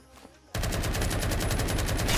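Sustained automatic gunfire in the Roblox shooter Phantom Forces: after a half-second lull, a loud, rapid unbroken burst of shots runs steadily to the end, close and dense, with no talking.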